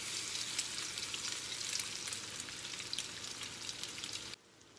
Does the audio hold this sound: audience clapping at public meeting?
no